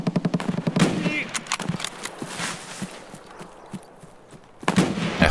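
Gunshots in the shooter game Escape from Tarkov: a string of sharp, close rapid shots at the start, a few scattered later pops, and another loud burst at the end.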